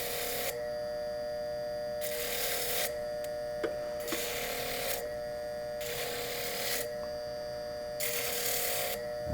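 Abrasive disc working over a metal ring blank to texture it, a gritty whirring hiss that comes in several sweeping bursts separated by pauses, near and moderately loud over a faint steady electrical hum.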